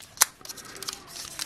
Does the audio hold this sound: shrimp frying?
no